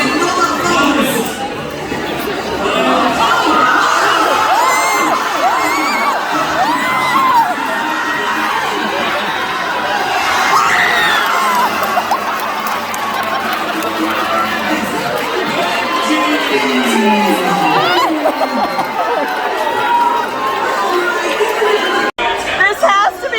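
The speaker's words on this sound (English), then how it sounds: "This has to be absolutely terrifying for the babies because we're screaming so loud." Crowd of passengers screaming, shouting and cheering at a baby diaper race on a Disney Wonder cruise sea day, loud, continuous and close, with excited voices and children's shrieks overlapping throughout.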